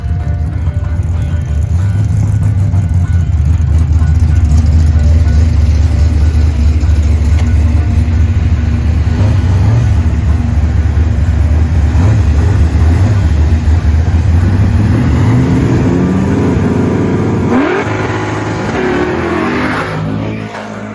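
A Chevrolet Malibu street car makes a drag racing run on motor, its engine roaring loud and continuous, rising as it revs and pulls hard, with no talking.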